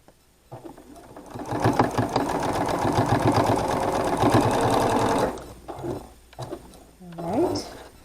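A sewing machine stitches quilt blocks in a steady, loud whirring run of about five seconds, then stops, followed by a few brief handling noises and a short voice near the end.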